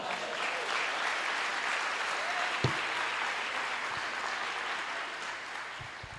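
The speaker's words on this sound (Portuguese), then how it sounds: "Aplauda Jesus, irmão." A church congregation applauds in a sustained, even patter of many hands, with a couple of louder single claps standing out, heard at a moderate distance in a reverberant hall.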